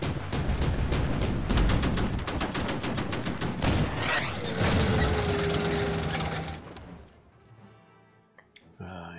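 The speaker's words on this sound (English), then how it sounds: "Dive bomb on that artillery." Dive bombing of artillery in Order of Battle, World War II eastern front, brings dense rapid bursts of fire and blasts for several seconds before the battle noise fades into quieter scattered clicks and a final crack.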